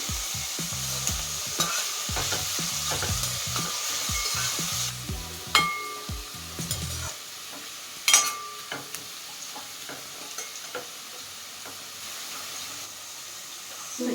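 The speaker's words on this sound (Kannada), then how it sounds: "ಆನಿಯನ್ ಚೆನ್ನಾಗಿ ಫ್ರೈ ಆಗಲಿ." Onions and curry leaves fry in a pan, giving a steady close sizzle with frequent stirring scrapes and clinks through the first half, then a softer hiss with a few sharp utensil knocks.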